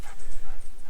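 A dog on a lead whines and whimpers close by in quick, uneven bursts for about a second, with faint outdoor noise around it.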